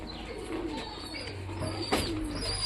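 Pigeons coo softly in a loft, low murmuring calls repeating over a steady background hum, with a brief sharper sound near the end.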